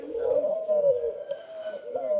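Doves at a zoo give a low, drawn-out cooing call that wavers continuously, fairly close and clear over a quiet background.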